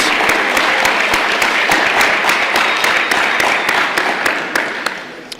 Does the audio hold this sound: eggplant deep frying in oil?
no